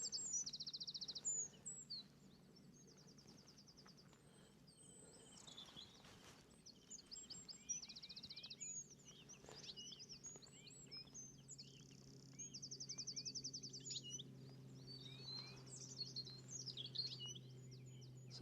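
A goldfinch singing on Ventnor Downs, Isle of Wight, repeated bursts of high twittering and chirps over a faint low hum of wind and distant background, outdoors with no talking.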